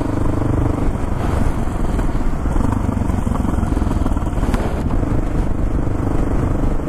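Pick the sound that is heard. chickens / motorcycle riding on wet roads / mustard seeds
motorcycle riding on wet roads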